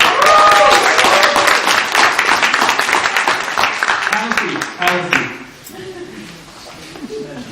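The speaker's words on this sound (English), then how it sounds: "give yourself a huge round of applause" Seminar audience of about thirty people clapping loudly at close range, the applause thinning and fading out after about five seconds, followed by scattered quieter sounds and faint talk.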